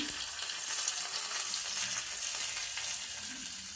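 Mustard seeds and curry leaves sizzle and crackle steadily in hot oil for a Chettinad kara chutney tempering, a dense, fairly faint frying hiss heard close up without speech.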